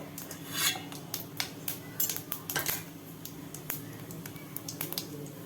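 Fennel seeds sputter in hot oil in a pan on a low simmer, giving scattered sharp pops and crackles at an irregular pace over a low steady background, close and fairly quiet.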